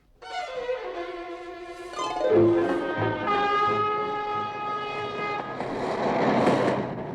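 A train draws near, its horn sounding in long chord-like blasts while the rumble of the wheels grows louder.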